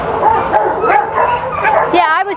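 A beautiful, sweet-natured dog with a gorgeous coat gives yips and whimpering cries close by during a temperament test, with a person talking over the sounds much of the time.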